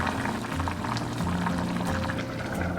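Cured pork (larou) with black bamboo shoots, cooked with the heat turned off, being poured from the pan into a clay pot: a steady, continuous pouring and bubbling sound close by, with no talking.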